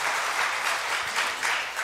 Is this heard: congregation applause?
yes